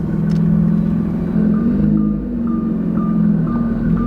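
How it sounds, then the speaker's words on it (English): A Nissan GT-R idles with a low, steady rumble while it backs slowly into a garage. It stays close and loud throughout, with faint beeps near the end. "Now I'm just backing the car in."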